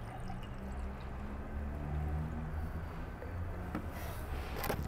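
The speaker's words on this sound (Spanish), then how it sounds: "Lo voy a llenar al vaso" Distilled water poured into a glass, heard as a steady, continuous close-up pour that runs for about five seconds with no talking.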